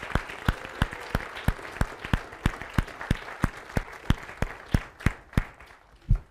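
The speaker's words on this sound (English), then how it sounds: "Give them one more time of applause" Audience applause after a children's Christmas program, heard as steady rhythmic clapping with evenly spaced sharp claps in unison over a soft crowd bed, fairly distant and moderate in level, fading near the end.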